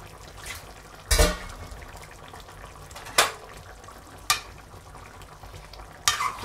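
Chicken sagoti simmers quietly in a pan, with four separate scraping stirs that stand out sharply against the low bubbling.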